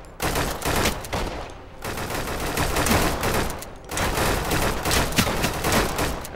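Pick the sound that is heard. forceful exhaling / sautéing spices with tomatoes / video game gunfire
video game gunfire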